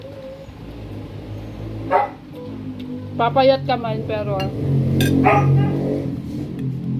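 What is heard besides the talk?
dog barking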